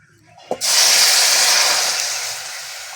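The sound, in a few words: fish broth poured into hot pan, sizzling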